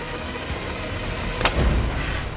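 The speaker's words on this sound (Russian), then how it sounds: "А, вот, произошел выстрел." A single sharp dart gun shot, fired at a bear in a bear rehabilitation centre in Synevyr, Ukraine, pops out of steady background noise, a brief burst with a short low thump trailing after it.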